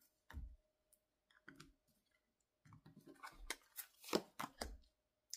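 Playing cards drawn and laid down on a table during a card reading: scattered soft clicks and slaps in short groups, close and fairly quiet, with pauses between them.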